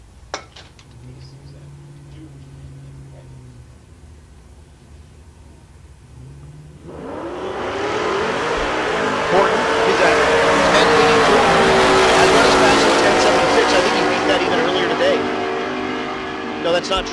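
Drag racing launch of a Chevy Nova with an LS3 engine against a Ford F-150: quiet crowd ambience with a voice, then at about seven seconds a loud, sustained engine roar erupts and holds at full volume as both vehicles accelerate away.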